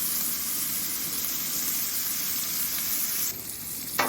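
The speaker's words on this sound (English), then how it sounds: "I've got my bacon grease going pretty good and I don't want to burn this" Chopped cabbage sizzles and crackles steadily in hot bacon grease on a Blackstone griddle outdoors at a campsite, with a continuous loud frying hiss and a small clatter near the end.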